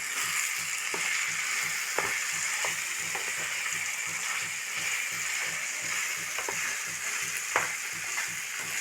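Kanthari chicken curry with lemon squeezed in, sizzling in a pan with a continuous hiss, while a spoon stirs and scrapes against the pan in repeated rhythmic strokes.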